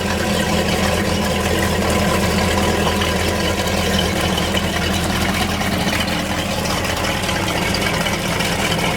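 A 2008 Sea Ray 260 Sundeck boat engine with under 400 hours idles in a steady, loud, even rumble with a low hum, running without a break and with no talk.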